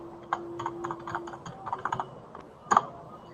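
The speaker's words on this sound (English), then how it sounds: "I'm typing it into chat as well." Quick, uneven keystrokes on a computer keyboard, a run of light clicks with a few louder taps and a brief cluster near the end, close and clear over a faint steady hum.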